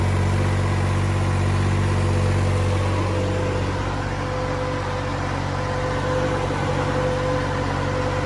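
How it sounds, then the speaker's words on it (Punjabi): A new borewell water pump motor running in a farm field gives off a loud, steady, continuous drone with a strong low hum and no break. "ਚੱਲਦੀ ਆ ਮੋਟਰ ਨਵੇਂ ਬੋਰ ਵਾਲੀ"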